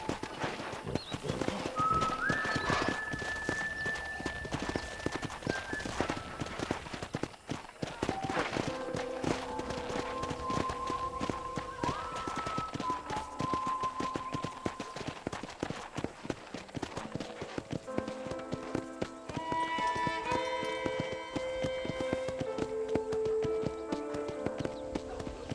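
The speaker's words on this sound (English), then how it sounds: "let's see if you can still ride a horse" Horse hooves clip-clop steadily while riding in the Red Dead Redemption video game, a continuous rhythmic patter under a musical score with a few bird calls mixed in.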